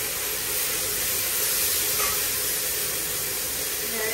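Potato and radish frying with onion in a pan, a steady, dense hiss of sizzling oil that holds even and loud throughout with no voice over it.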